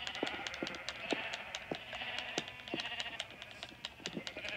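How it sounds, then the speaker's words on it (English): Sheep in a Minecraft shearing mini game give short, clipped bleats in a rapid, irregular series alongside quick shearing clicks, fairly quiet and sounding without talk. "I'm shearing sheep like crazy."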